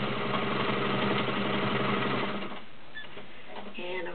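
A heavy-duty Kenmore Model 33 sewing machine runs steadily, stitching decorative embroidery patterns with a fast, even mechanical whirr that continues for a few seconds and then eases off to a lighter hum.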